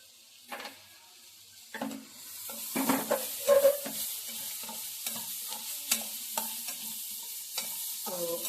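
Onions for an okra curry fry in a pan with a soft, continuous sizzle. Intermittent scraping and tapping from a stirring utensil break through, growing slightly louder toward the middle. No one speaks.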